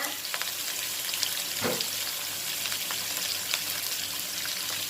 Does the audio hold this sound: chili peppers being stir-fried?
yes